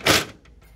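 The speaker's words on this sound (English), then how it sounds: "Just open that door there." The side door of a Konica Minolta bizhub 458 copier swings open with one short, close clunk and rustle, followed by faint small clicks.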